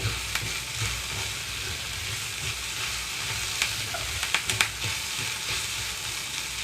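Ivy gourd (tindora) pieces fry in a pan with a steady close sizzle, punctuated near the end by a few sharp spatter pops and light stirring clicks, no talk.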